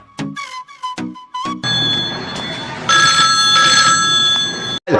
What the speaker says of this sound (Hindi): सर फोन आ रहा है।